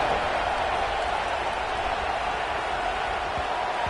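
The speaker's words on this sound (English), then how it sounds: "this crowd is buzzing after that last score" A stadium crowd at an Ole Miss football game buzzes after a touchdown, a dense continuous roar of many voices and scattered applause, steady and fairly loud.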